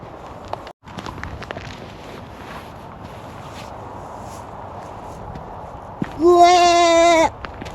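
A sheep on a countryside walk near Houghton le Spring gives a single clear bleat near the end, over quiet outdoor ambience with faint footsteps.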